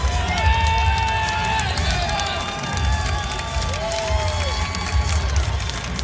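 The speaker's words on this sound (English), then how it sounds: "He's got a round of applause." At a Marquette versus Seton Hall college basketball game, an arena crowd applauds and cheers as a fan is ejected, a broad roar of claps and voices. Squeaking sneakers sound over it and a commentator talks throughout.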